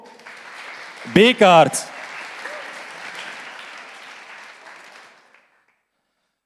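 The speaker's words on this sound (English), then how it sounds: "Please give a warm and hearty applause for Thibault" Audience applause welcoming Thibault Bekaert, founder of WUK, to the stage at a museum talk: a steady wash of clapping that lasts several seconds and then fades out, with a brief spoken name over it near the start.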